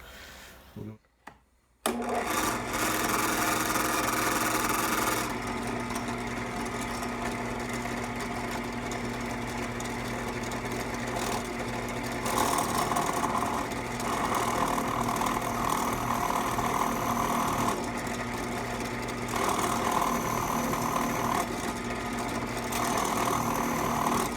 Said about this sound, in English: You just drill holes, shouldn't need any filler.